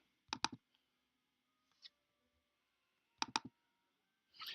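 Mouse button clicks on a computer while working in Finale music notation software, quiet and close: two quick double-clicks near the start, a couple of faint single clicks in between, and another crisp double-click later, with no talking.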